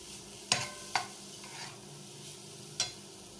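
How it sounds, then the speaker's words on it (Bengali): Grated carrot frying in oil with bay leaves and whole spices, heard as a steady soft sizzle broken by a few sharp spoon scrapes against the pan. "এখন এটা আবার তেলের উপরে এভাবে ভেজে নেব।"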